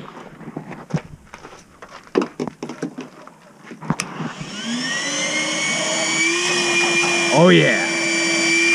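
A strong shop vacuum, used to try to pull something out of a Yamaha GP1300R engine that ran with no oil, spins up about halfway through to a steady loud whine after some clatter and a brief spoken remark.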